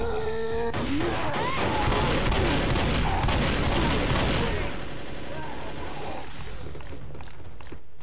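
Rapid bursts of M16 assault rifle fire in the zombie shooter Left 4 Dead, Blood Harvest farmhouse finale, layered with other weapons and chaotic game effects, dense and loud for several seconds before thinning out.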